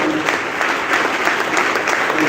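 An audience at a live worship service in FGA Church, Badami Bagh, claps steadily in a dense, sustained round of applause that fills the room.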